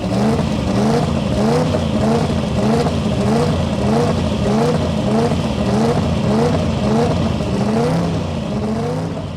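HKS Supra race car with a custom chassis, composite body, air-shifted transmission and twin-turbo Toyota V8 revving hard, a loud continuous engine roar climbing in repeated rising sweeps through gear changes, with no talk over it.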